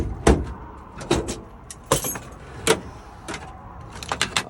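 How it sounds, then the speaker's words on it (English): A mobile mechanic's toolbox being opened in a van, with several sharp metallic clacks and latch snaps spaced irregularly, close and fairly loud, ending in a quick cluster of rattling clicks. "Open my toolbox."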